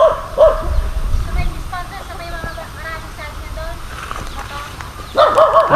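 A dog barks and yips a few times nearby while people talk over it, at a resort and adventure camp on Mt. Arayat, Pampanga.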